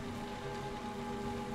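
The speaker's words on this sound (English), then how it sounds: "The rain thunders on the water's surface, and the water is rising." Steady, dense rain pours onto a water surface in the video game The Lion's Song, a continuous wash of drops with no voices.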